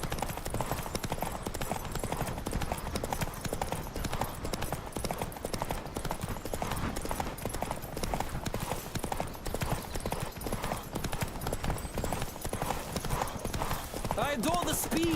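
Horse hooves gallop in a race in The Witcher video game, a rapid steady clip-clop running the whole time, with voices talking over it.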